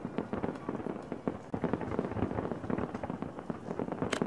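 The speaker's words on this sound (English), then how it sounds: "They really went all out with those fireworks." Fireworks explode in a video game, a dense, continuous crackle of many rapid bangs and pops at moderate loudness.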